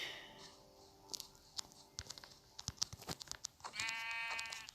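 Sheep bleat in short calls in a video game, amid clicks, taps and crunchy game effects, with a tonal chime near the end.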